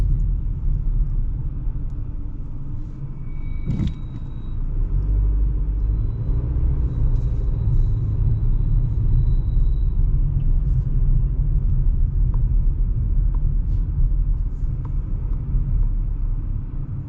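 A 2025 Nissan Versa engine revving under load while driving, a steady low rumble with road noise that swells slightly and holds for the length of the run, heard from inside the car with no talking.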